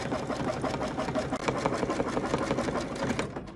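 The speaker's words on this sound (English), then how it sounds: "now the machine is going to stitch down again that rectangle" An embroidery sewing machine stitching a rectangle on fabric held in a hoop, a fast steady needle chatter with a rhythmic mechanical pulse, close and continuous, with a brief hitch midway.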